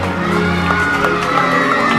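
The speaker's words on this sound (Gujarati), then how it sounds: "જોરદાર તાળીઓ વગાડીએ એકવાર." A crowd cheers and shouts throughout a school annual prize distribution ceremony. The sound is loud and continuous, with a few sharper bursts rising above the steady roar.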